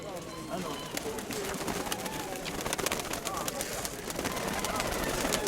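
Pigeons coo and flutter nearby in a busy enclosure at a bird fair in Dnipro, a soft continuous murmur of birds with scattered rustling.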